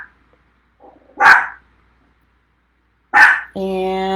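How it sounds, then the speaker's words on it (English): A dog named Pebble gives two sharp, close barks a couple of seconds apart, followed by a sustained tonal sound. "Pebble is fearless with his barking"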